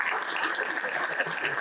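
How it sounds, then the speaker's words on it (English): A small audience claps at a Dairibord 2023 results presentation in Harare, a steady patter of hands lasting a moment, moderately loud with some murmuring mixed in. "I thought we would get a resounding round of applause for that presentation."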